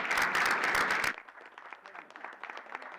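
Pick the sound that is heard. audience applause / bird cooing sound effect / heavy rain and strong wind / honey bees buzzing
audience applause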